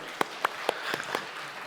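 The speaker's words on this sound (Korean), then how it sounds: "우리 박수 한번" Sparse clapping from a church congregation during a Korean Sunday service, a handful of distinct claps in a loose rhythm, fairly close and fading out.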